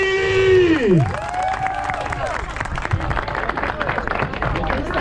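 A crowd claps at a wreck race award ceremony as a winner steps onto the top spot, with steady applause under a sweeping, sliding electronic fanfare tone and a loud announcer voice.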